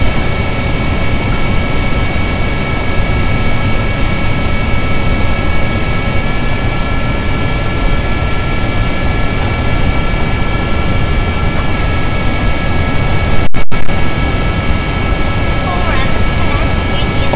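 Two stock aircraft taking off together in Kerbal Space Program make a loud, steady jet-engine roar with a whining tone that holds unbroken for many seconds. Someone talks over it throughout.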